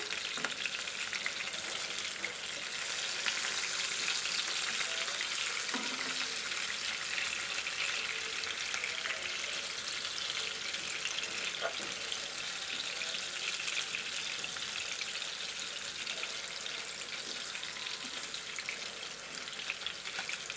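Sankara fish frying in hot oil on a beach, a steady, dense sizzle that runs unbroken and fairly loud throughout with faint splashy crackle, no voices.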